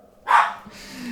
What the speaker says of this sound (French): Je ne sais pas du tout pourquoi les chiens aboient.